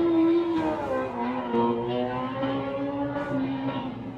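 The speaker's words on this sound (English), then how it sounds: "I don't know if you heard that motorcycle as well, but I definitely heard it." A motorcycle passes by outdoors with a moderately loud engine drone whose pitch slides and wavers as it goes past, heard alone with no talk.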